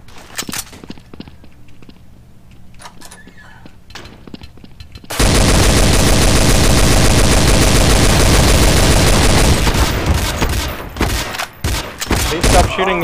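Counter-Strike: Source gunfire erupts into a loud, sustained automatic barrage after a quieter stretch of scattered shots and footsteps, with a burst of rapid fire near the end and voices talking over it.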